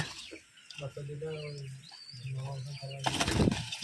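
Pigeons at a Rajshahi Giribaj and high-flyer pigeon farm give low, repeated cooing calls up close, joined near the end by a burst of rustling that could be wing flapping.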